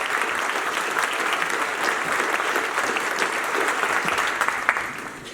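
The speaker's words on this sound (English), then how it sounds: "Let's have another round of applause." An audience at a university commencement ceremony breaks into sustained, even applause, a thick wash of many hands clapping at steady volume that tapers off near the end.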